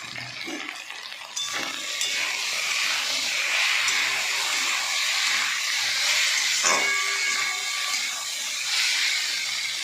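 Tomatoes hit a hot pan with turmeric already in it, setting off a loud, steady sizzle that swells after a brief clatter and stays close and continuous.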